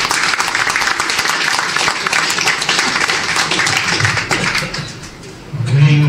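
Applause from an audience at a book launch event, dense and steady clapping that fills the whole stretch at a loud, close level before a low hum takes over at the very end.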